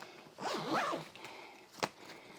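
A zipper on a budget carry-on bag from Target is drawn closed in one quick, close pull, followed by a short sharp tug at the end.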